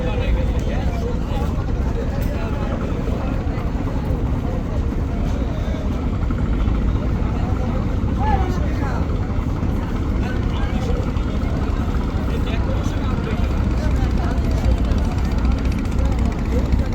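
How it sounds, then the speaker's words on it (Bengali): The Bangladeshi passenger launch Parabat pulls away from the Barishal launch ghat, its engine a steady, loud, broadband rumble and churning water that runs unbroken throughout, with someone talking over the noise. "পারাবত কিন্তু সামনের দিকে গতি বাড়িয়ে যাত্রা আরম্ভ করলো"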